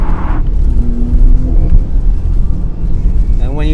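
Porsche Panamera hybrid with the engine heard from inside, a loud continuous low rumble that rises in pitch, dips briefly as the gears change, then climbs again, with a faint rising whine at the end.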